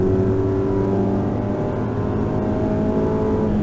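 Racing cars in an Improved Production Car race at Hampton Downs, including a turbocharged BMW, roar close by as the engines accelerate hard, a steady loud drone with rising tonal pitch and no talking.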